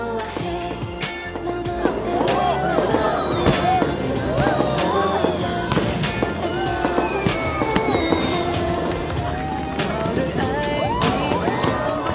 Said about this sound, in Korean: 불꽃놀이 시작했나 봐요.